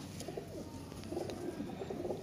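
Pigeons coo in a steady, overlapping chorus of soft, rolling calls, close and fairly loud, with no voices over them, from a loft of Kasoori pigeons.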